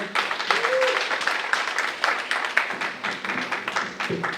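An audience at an election meeting of an Akposso association in the USA claps together in a dense, lively burst of applause that carries throughout, with a voice briefly heard over it.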